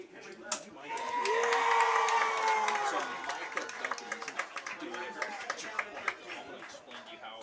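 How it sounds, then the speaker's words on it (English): Football crowd cheering and applauding after a tackle at a high school game between the Owensville Dutchmen and Central Rebels, a broad swell of roaring voices with whoops, rising early then holding steady, with nearby chatter over it. "the crowd went wild"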